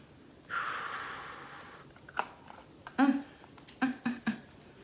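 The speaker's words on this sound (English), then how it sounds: "let's give it a sniff." A few short, breathy sniffs of a rose-scented facial product close to the microphone after a soft rustle, quiet and in quick succession.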